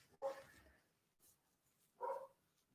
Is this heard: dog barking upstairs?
yes